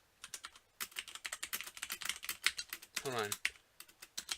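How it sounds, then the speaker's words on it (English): Brisk, irregular clicking of keys on a computer keyboard, close and fairly quiet, with a quick voice cutting in briefly partway through. "What are you typing?"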